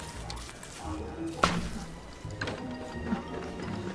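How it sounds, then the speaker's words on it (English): A tool breaks in Don't Starve Together with a sharp crunchy smash, a single clear impact amid soft background game noise and a few lighter knocks. "I love the noise tools make when you break them"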